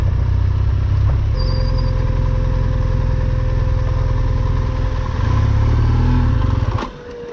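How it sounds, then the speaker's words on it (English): A heavily loaded BMW GS adventure motorcycle ploughing through deep bull dust, its engine droning loud and close with a steady low rumble that dips at the end. "ride a 256 kilo bike fully loaded with a 100 kilo rider and 20 kilos of gear"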